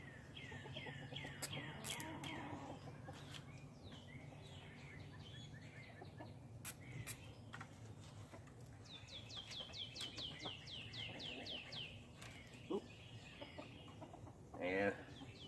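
Farmyard chickens cluck and chatter around an outdoor raised garden bed build. Their calls come in repeated bursts, fairly close but quiet, with occasional louder squawks over soft background noise.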